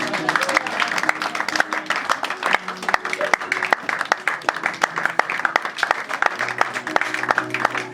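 A church congregation at a night prayer service applauds to acclaim God, with steady, dense clapping throughout. Voices and a sustained musical tone sit beneath the applause.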